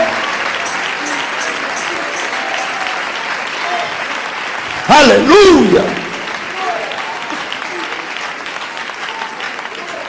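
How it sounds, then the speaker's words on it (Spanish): A church congregation claps in praise, a steady wash of applause running throughout, briefly broken by a loud shouted voice near the middle. "dale ese aplauso de alabanza"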